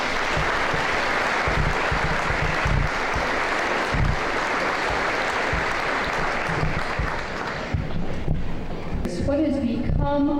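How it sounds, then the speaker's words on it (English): An audience at a senior class banquet applauds with steady, sustained clapping that fills the room, then fades as a voice begins speaking over the last moments. "Should we give them a round of applause?"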